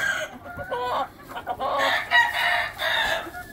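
A Leiper rooster crows loudly and close by while black Asil Plummer hens cluck around it, the calls overlapping in bursts with no speech.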